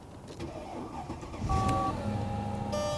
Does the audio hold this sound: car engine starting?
yes